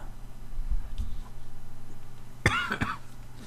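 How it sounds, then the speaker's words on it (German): A single person coughs up close, one or two harsh bursts following a quieter stretch of low background hum. "Husten immer noch, tut mir leid."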